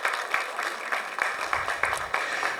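A university audience gives office managers a brief round of applause, heard as soft, somewhat distant clapping with a few sharper claps standing out.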